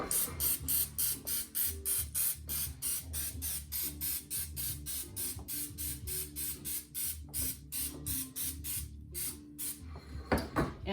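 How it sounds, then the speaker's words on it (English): Rapid bursts of Pam aerosol cooking spray onto a cupcake tin, about twenty short hisses in a steady rhythm, close by over a low hum of background noise. "I'm gonna use Pam spray on each one here to make sure nothing's gonna stick"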